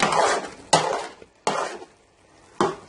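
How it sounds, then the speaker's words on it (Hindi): Gajar ka halwa is stirred and roasted in a pan, with four distinct scraping strokes of a spoon against metal, each loud at first and tailing off, separated by short pauses. "साथ साथ इस सॉस को तोड़ते जाएंगे और पूरे हलवे में मिक्स करके इसको फिर भूनेंगे।"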